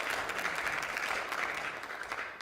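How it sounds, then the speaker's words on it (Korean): Applause at a party meeting, a dense sustained crowd clapping filling the whole stretch at an even, fairly loud level with no voices over it. "다시 한번 큰 박수 부탁드립니다."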